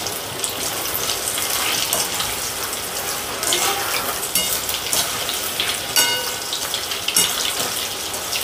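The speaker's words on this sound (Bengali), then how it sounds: "চিকেনগুলোকে ফ্রাই করে নিতে হবে।" Chicken pieces fry in oil for garlic chilli chicken, giving a dense, continuous sizzling hiss with small crackling bursts, up close and without any talk.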